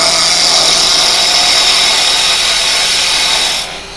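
Carbide tool cutting yew wood spinning on a lathe during spindle work, a loud close-up rushing, scraping hiss that holds steady, then drops away abruptly at the end.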